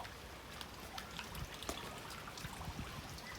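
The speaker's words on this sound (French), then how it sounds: "Il pleut." Rain falls steadily outdoors, a soft continuous patter of drops with scattered brighter ticks, fairly faint and even throughout, with no talking.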